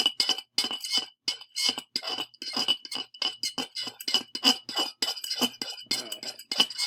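A spoon stirs coarse salt into vinegar in a bowl, making quick, close, rhythmic clinks and scrapes against the sides that repeat steadily with short gaps, with no talking.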